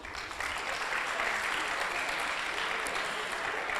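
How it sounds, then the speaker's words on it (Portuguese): An audience at a Brazilian justice forum breaks into applause after a lawyer is introduced, the clapping swelling quickly and holding as an even, moderately distant wash. "Uma salva de palmas."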